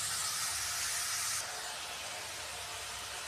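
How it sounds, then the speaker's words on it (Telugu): Carrots frying in a pan give a steady, loud sizzling hiss that drops slightly in intensity partway through and continues evenly, with no voices. "దోరగా వేయించాలి, కలర్ మారేదాకా"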